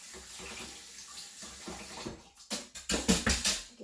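Liquid soap mixture pours into molds, starting as a soft steady trickle and swelling into several louder splashy gushes and drips near the end, with no talking.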